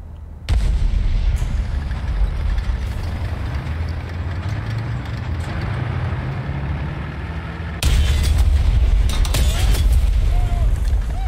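Loud, booming gunfire and explosions from a video game, with sudden blasts and bursts over continuous low rumble; Portuguese speech is barely audible.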